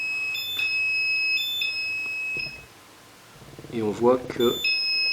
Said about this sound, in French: à chaque fois qu'il y a un nouvel impact de foudre, ça me déclenche l'alarme